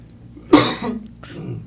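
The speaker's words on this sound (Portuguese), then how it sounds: "Tá todo mundo tossindo aqui, viu?" A single loud, harsh cough up close, followed by a softer second cough, with no speech.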